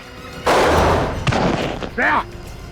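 A sharp, loud gunshot bursts out and rings off, followed by a fainter thump and a short vocal cry.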